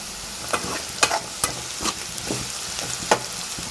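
Potatoes frying in a pan with curry leaves give a steady sizzle, broken by repeated short scraping knocks of stirring roughly every half second, close by and fairly loud.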